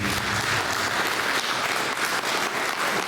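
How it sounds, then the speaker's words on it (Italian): Audience applause for a musician at a live performance in Sardinia, a dense, steady wash of clapping from a crowd at moderate loudness, continuous throughout without talking. "Un applauso a Gianmario"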